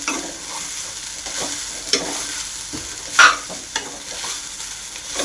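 Poha (flattened rice) is stirred and tossed in a pan, a steady low crackle of frying with soft scraping strokes and a couple of sharper clicks from the spoon, close and without speech.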